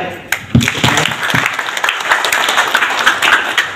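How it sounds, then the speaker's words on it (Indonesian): Audience applause at an Indonesian cooperatives and small business ministry event, a dense wash of many hands clapping that swells after a brief opening and carries on steadily, with a voice talking over part of it. "Tuh, tepuk tangan ya."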